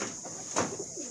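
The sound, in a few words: cooing of imported Teddy pigeons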